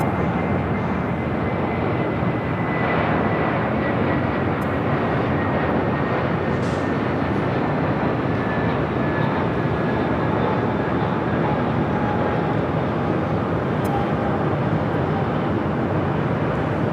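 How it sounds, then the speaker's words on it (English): An American Airlines Airbus A321 arriving from Dallas Fort Worth at LAX makes a continuous broad engine roar for the full stretch, with a thin whine drifting downward, and no voices. "Next arrival, American Airlines flight 1997, coming from Dallas, Fort Worth, Texas. Also an A321."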